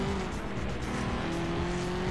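A car engine drones steadily at high revs in the racing game Flatout 2, with a sustained tire squeal layered over it. The sound is loud and continuous, with no talking.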